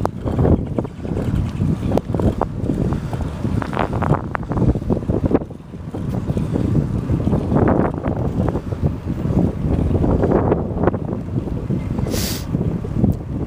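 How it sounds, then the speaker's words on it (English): Strong, gusty wind roars and buffets the microphone continuously, with louder surges throughout. "Holy crap, it's windy!"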